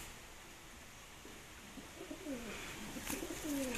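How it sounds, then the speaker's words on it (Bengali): A male pigeon coos softly in a few low, throaty calls that grow a little louder toward the end, over quiet background hiss. "এ হচ্ছে আরেকটা নর পায়রা"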